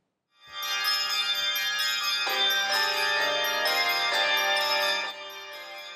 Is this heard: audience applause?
no